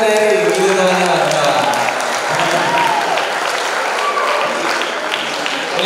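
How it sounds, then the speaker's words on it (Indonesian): A school hall audience at a Catholic high school alumni event applauds a sports teacher, Pak Heri, a dense continuous patter of clapping from a crowd that holds evenly before slowly thinning. "Berikan aplaus buat Pak Heri, gitu teman-teman."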